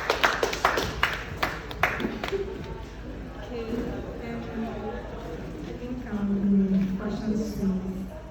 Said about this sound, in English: Let's clap for her so that she stand up.